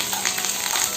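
Dried red chilies and curry leaves sizzle and crackle in a hot pan left on residual heat after the stove is switched off, a close, steady frying hiss with no voices.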